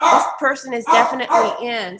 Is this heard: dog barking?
yes